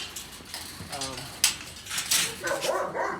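Dogs in an outdoor K9 kennel yard: scattered barks and whimpers at middling distance, with sharper bursts toward the end.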